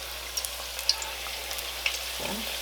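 Pork egg rolls frying a couple at a time in hot oil, a continuous crackling sizzle with scattered pops and bubbling, steady and close.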